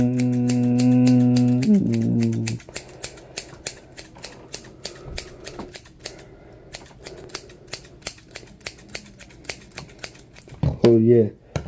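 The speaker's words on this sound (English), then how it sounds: "what scissors is the best sound?" Close, crisp snips of haircutting scissors during an ASMR haircut role-play, with a voice at the start and then a steady run of sharp cuts about twice a second and a brief voice again near the end.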